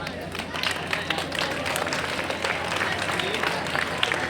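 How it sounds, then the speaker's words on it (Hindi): An audience applauds at a cricket tournament prize distribution ceremony, dense clapping sustained throughout while a voice talks over it. "ताली ताली।"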